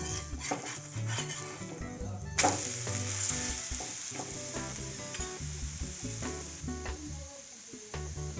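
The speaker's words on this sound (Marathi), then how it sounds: "तर आपली ही बेसन पोळी पलटवून घेऊया" Crispy besan flatbread sizzles loudly and steadily on a hot pan just after being flipped, with a dense frying hiss and occasional clinks of a utensil against the pan.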